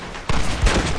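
Heavy gunfire from big guns in a video game: a single loud, booming blast about a third of the way in, followed by a second low thump and a sustained rumbling tail.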